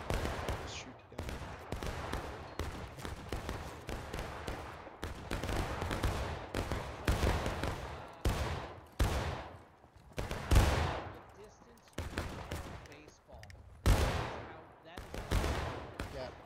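Musket and rifle gunfire in the Civil War battle game War of Rights crackles almost continuously: dense volleys of near and distant shots overlap in ragged bursts with deep booms, and no voices are heard.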